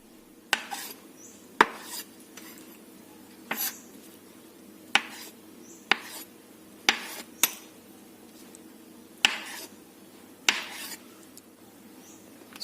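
A knife cuts tofu into long strips on a cutting board, making about a dozen sharp, close knocks at an uneven pace, each followed by a short soft scrape, over a quiet background.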